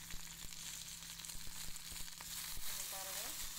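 Okra (ladyfinger) fries in a pan with a soft, steady sizzle punctuated by small crackles and pops, over a faint low hum. A voice is briefly heard near the end.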